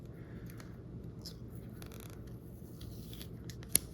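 Card packaging for a mobile provider's SIM card is peeled and torn with light scratchy rips and rustles close up in a quiet room, ending in one sharp snap.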